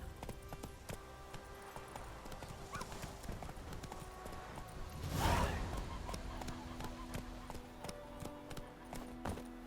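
Horse hooves clip-clopping in a video game, a steady rhythmic trot of close, crisp hoofbeats continuing throughout with a brief whoosh midway.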